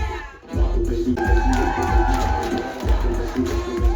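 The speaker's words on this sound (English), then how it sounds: "Give him a big round of applause." Crowd on a cruise ship cheering and applauding a performer, a dense steady roar of voices and clapping with a sustained tone running beneath, loud and close throughout.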